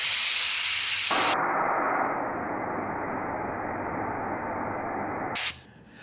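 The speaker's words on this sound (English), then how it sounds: "So as you can see, that is a massive spray pattern." Sagola 3300 GTO automotive paint spray gun spraying at 20 PSI about six inches from the surface, giving a loud, steady broadband hiss that drops slightly after a second and holds for several seconds before cutting off.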